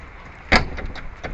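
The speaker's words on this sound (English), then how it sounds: "Car door." A car door shuts once with a sharp thud, followed by a few softer clicks and knocks, set against faint outdoor background noise.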